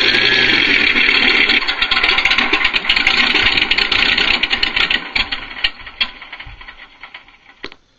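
An RC sound module plays a MrRCSound V4 engine idle, a steady loud mechanical rumble with fine rapid pulsing that holds, then gradually fades toward the end, with no talk.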